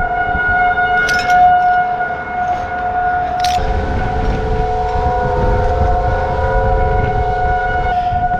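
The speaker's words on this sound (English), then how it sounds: "Every month, they set off the alarms just to make sure we're listening. That's like the tornado sirens." Tornado siren monthly test wailing steadily and loudly outdoors, a continuous sustained tone filling the whole stretch without speech, with a low rumbling background.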